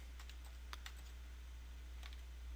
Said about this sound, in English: I'll also try typing in a date